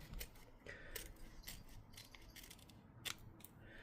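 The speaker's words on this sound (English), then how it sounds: "I'm going to cut the top off and then pour those all in." Several crisp scissor snips cutting open an instant noodle sauce packet, quiet and close, in an irregular rhythm of short sharp cuts with a small clink near the end.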